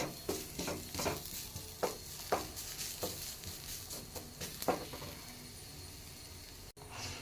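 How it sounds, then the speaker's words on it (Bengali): Onions and Maggi masala fry in a pan, a steady low sizzle broken by repeated scraping stir strokes, close and moderately quiet with no talk. "আরেকটু এবার পেঁয়াজের সাথে মিশিয়ে একটু হালকা ভেজে নিয়ে আমি ম্যাগিগুলো এর মধ্যে দিয়ে দেবো"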